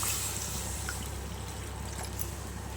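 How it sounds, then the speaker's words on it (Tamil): Water pours into a pan of chicken masala being cooked, a soft continuous trickle and splash over a steady low hum, faint and alone. "தண்ணி ஊற்றிக்கலாம்."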